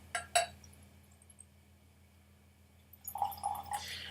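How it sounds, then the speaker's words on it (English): Elijah Craig 12 bourbon is poured into a glass at a home bar, opening with a couple of clinks of glass, then a short run of liquid gurgles and trickles, quiet and close. "Let's pour us a dram of this."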